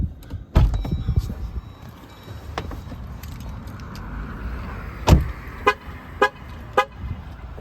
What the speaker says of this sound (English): The vehicle does honk at you if the vehicle is running or if the key is left inside